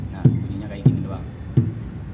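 Three evenly spaced strokes on a kendang drum from a koplo-style tam tam setup, struck without pressing the head, each a short dull low thump with quick decay, close and fairly loud, with no one talking.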